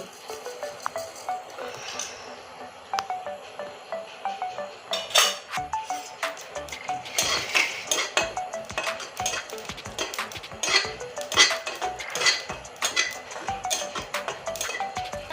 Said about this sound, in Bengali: প্রথমে জিরাটা ভেজে নিচ্ছি